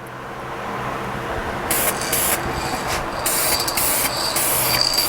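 A spray gun lays a flash coat of finish onto a guitar body and its sides, giving loud hissing bursts that start and stop in several passes, with quieter mechanical handling noise before the first burst.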